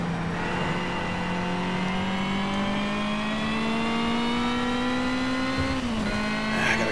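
A race car engine in Need for Speed Shift 2 Unleashed holds a steady, loud droning note that climbs gradually in pitch as it accelerates, then briefly dips near the end during a gear change before resuming, with no talk over it.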